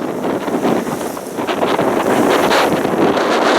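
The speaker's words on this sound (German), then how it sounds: "Ja, der Wind hat weiter zugelegt." Strong wind roars and buffets the microphone steadily on a sailboat near Skagen, with a constant rushing noise that swells louder toward the end, sea and hull sounds beneath.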